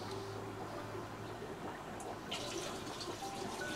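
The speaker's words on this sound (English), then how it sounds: "I think I'm just going to slowly pour them in with a cup" Water holding betta fry is slowly poured from a cup into a tank, a gentle continuous trickling pour with faint splashes, quiet and close, picking up slightly toward the end, with no talking.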